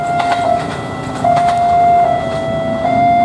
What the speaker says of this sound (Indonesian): Alarmnya masih bunyi, berarti ada kereta lagi nih.